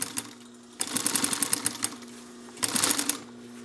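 A Singer 44-9 walking foot sewing machine stitches fabric in two short bursts of rapid, even needle strokes, with quiet gaps around them.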